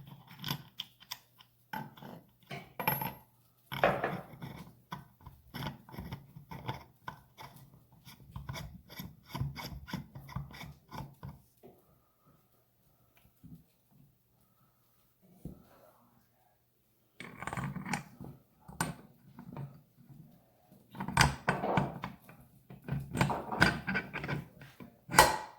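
A part is screwed onto the crank end of a 1985 Honda ATC 250R engine being assembled in a kitchen, producing close metallic scraping, clicking and rasping in uneven bursts with a quiet pause midway.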